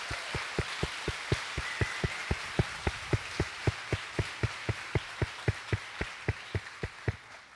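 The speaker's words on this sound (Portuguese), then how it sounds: "Pode aplaudir bem forte a Jesus" A church congregation applauding during a Sunday service: evenly spaced sharp claps in steady unison rhythm, around three per second, over a broad hiss of scattered clapping across the room, sustained and moderately loud throughout.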